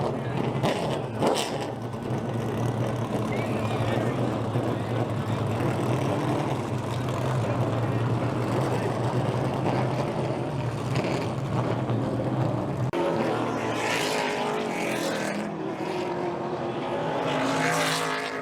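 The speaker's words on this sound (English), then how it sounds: "Drivers, start your engine!" Race car engines fire up and idle together at a local short track, a loud sustained low rumble filling the whole stretch, swelling with fresh revving near the end.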